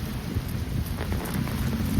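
Rain and rolling thunder from a spring storm in New Orleans, a dense, steady wash of rainfall with low rumbling underneath, moderately quiet and continuous with no speech.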